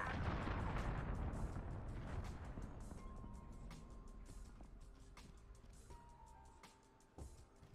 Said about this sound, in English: I just blew myself up.